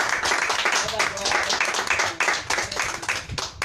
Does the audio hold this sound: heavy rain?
no